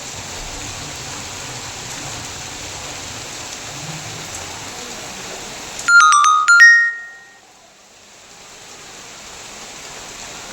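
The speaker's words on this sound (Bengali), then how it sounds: "আর দেখো বৃষ্টি পড়ছে, ঘুম থেকে উঠেই দেখি বৃষ্টি।" Steady rain falls outside on a morning, a soft continuous hiss that briefly cuts out while a short electronic ringtone chirps, then the rainfall gradually returns.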